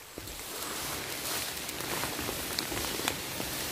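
Rain falls in a forest during mushroom foraging, a dense, even hiss of drops pattering on leaves and ground, with no voices.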